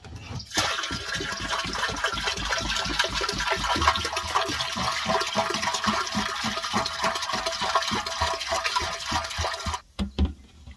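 Water gushing from a truck's tank into a large fertilizer tank, a steady close rushing flow that runs continuously for about nine seconds before stopping.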